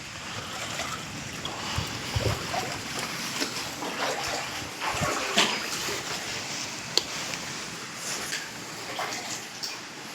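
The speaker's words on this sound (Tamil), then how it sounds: "திறந்தோடனே தண்ணி அப்படி உள்ளே போகுது" Floodwater from a December 2025 cyclone rushing and splashing steadily into a house through an opened door, a continuous turbulent flow with occasional louder surges, fairly faint and without voices.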